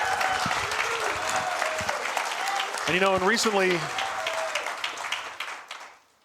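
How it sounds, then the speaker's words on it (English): A live show audience applauds a singer, the clapping continuing under a voice and a brief laugh before fading out at the end. "Give Giorgio a round of applause again."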